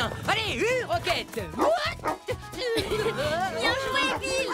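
A dog yips and barks excitedly with whimpering, close and lively, mixed with animated chatter over the top.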